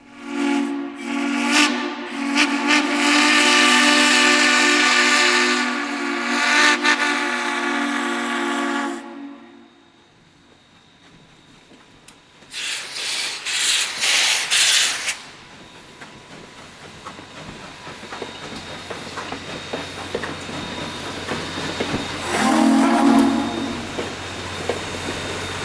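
Steam locomotive Lindy, Washington & Lincolnton No. 203, departs with a loud, sustained steam whistle blast and then a second burst, while hissing steam and rolling train noise continue beneath. A short whistle toot comes near the end.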